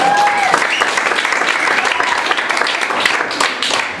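Audience applause fills a comedy club at a stand-up show in New York, a dense, steady wash of clapping hands lasting throughout, loud and close, with a brief tone at the start.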